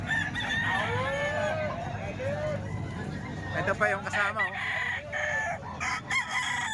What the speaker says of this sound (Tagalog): Ang daming manok sa Kalumpit mga bossing.